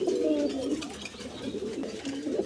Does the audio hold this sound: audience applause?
no